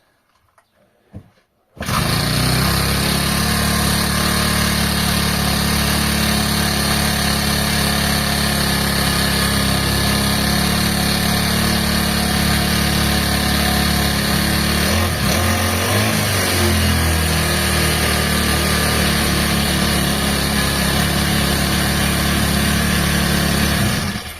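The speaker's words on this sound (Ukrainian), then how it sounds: "як заведена мотокоса, показувати оберти двигуна" A PROCRAFT T5600/S petrol brush cutter starts after a brief quiet moment and then runs steadily and loudly at high revs, a constant close whine of a small two-stroke engine with a slight wobble in speed midway.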